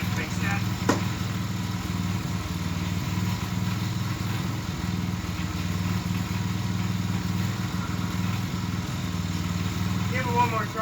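A Sears engine chugs and clatters close by as someone tries to get it running, with a rough, rhythmic mechanical pulse that continues steadily throughout.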